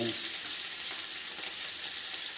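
Curry leaves sizzle and fry steadily in hot oil in a pan, a dense, even crackle that holds at the same level throughout, with no talking over it.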